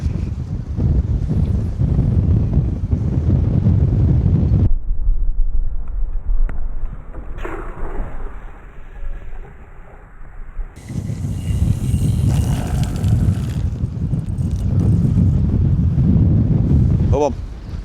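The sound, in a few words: strong side wind on the coast while sea fishing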